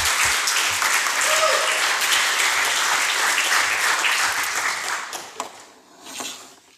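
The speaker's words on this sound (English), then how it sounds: "So please give an applause to all the guys that helped make Leap 15 a great release." Dense, steady applause from a conference audience at an openSUSE Leap release event, loud and sustained before thinning out and fading near the end.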